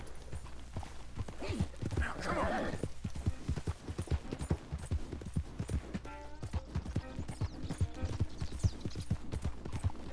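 Horse hooves clip-clopping at a steady trot in the video game Red Dead Redemption 2, a close rhythmic beat running throughout, with a brief spoken line over it and a few faint background tones.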